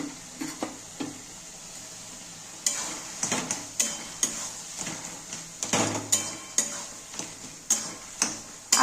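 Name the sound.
prawns frying with taro leaves in a pan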